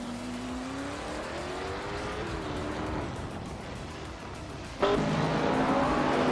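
A 1970 AMC Javelin races in a video game, its engine droning steadily with pitch shifts as it shifts and accelerates, then a sudden louder surge of engine roar near the end.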